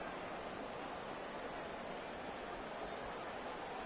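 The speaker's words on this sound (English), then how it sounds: "In the heavy rain here in Philly." Heavy rain falls in an American football video game during a Giants at Eagles match in Philadelphia, a steady, even hiss of downpour filling the whole stretch with no voices.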